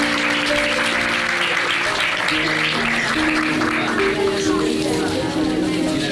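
A church congregation claps loudly and steadily throughout, a dense continuous round of applause with a sustained hum or tones underneath and no break.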